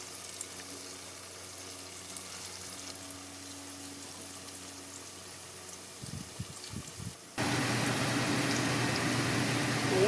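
Tofu dropped into boiling hot oil sets off a sudden, steady, close frying hiss after a long quiet stretch with a few soft knocks.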